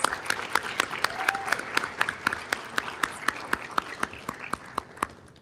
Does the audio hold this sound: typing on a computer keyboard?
no